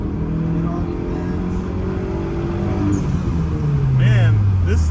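A mid-engine Toyota MR2 SW20 accelerates hard through the gears, its engine note climbing and dropping across shifts at close range, loud and steady, with people talking over it inside the cabin.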